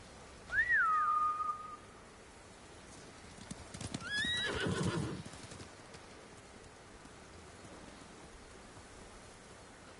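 Samurai horses in the Ghost of Tsushima game whinny twice, a clear neigh at the start and another a few seconds later amid soft hoof and rustling noise, then quiet ambience.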